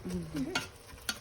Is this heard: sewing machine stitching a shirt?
no